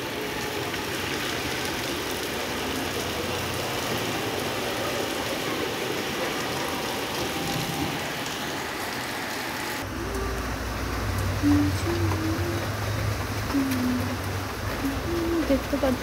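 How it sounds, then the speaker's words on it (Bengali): Heavy rain falling hard outside, a loud continuous wash of water that swells partway through, with faint low engine-like rumble beneath. "দেখো কত বৃষ্টি পড়ছে"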